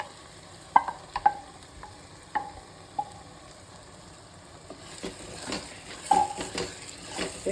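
Ground masala paste for a fish curry frying in a pan, with scattered sharp spoon clinks against the pan at first and a soft sizzle growing louder in the last few seconds.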